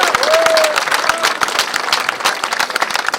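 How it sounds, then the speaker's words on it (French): Audience at the golden onion festival inauguration in Mulhouse applauding, a loud, dense burst of many hands clapping with a brief whistle early on, fading slightly as it goes. "Je vous demanderai d'applaudir très fort Jean Rotner"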